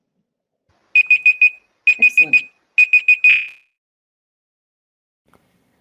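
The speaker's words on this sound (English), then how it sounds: "I forgot that I had a timer going separate" A timer alarm goes off in three quick bursts of rapid electronic beeps, four beeps each, close and loud, then stops. A voice speaks briefly between them.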